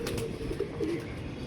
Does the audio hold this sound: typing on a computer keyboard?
no